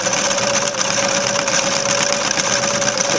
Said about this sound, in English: So that's your blind hem stitch.